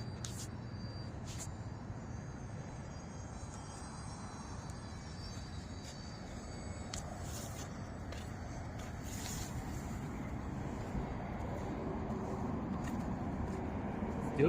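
A UMX Turbo Timber foamboard RC plane flies at about half throttle outdoors, its electric motor giving a steady, distant buzzing drone that swells slightly toward the end.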